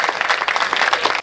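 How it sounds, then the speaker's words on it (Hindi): An audience at a Hindi-language stage event claps loudly and steadily, a dense burst of applause lasting just over a second before cutting off abruptly. "जोरदार तालियां बजाइए"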